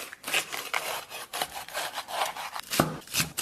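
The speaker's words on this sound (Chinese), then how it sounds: "咱们把香菇啊切成小丁丁" Knife chopping shiitake mushrooms into small dice on a cutting board, a steady run of close, crisp cuts with a few sharper knocks against the board.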